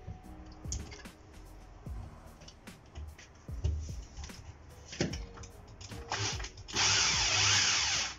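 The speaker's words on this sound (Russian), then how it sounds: "Нам понадобится шуруповерт и сверло на 8 сверлильных отверстий." A cordless drill fitted with an 8 mm bit drills holes during refrigeration equipment repair while an evaporator is installed: scattered clicks and handling noises, then a sustained, loud whirring burst near the end.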